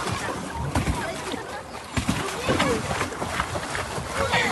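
A boat churns through water with continuous sloshing and splashing, a busy rushing texture with voices faintly mixed in.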